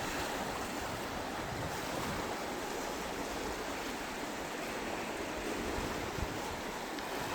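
Constant roar of the rushing Shoshone River in Wyoming beside a campsite, loud and close, with a broad steady wash and no speech.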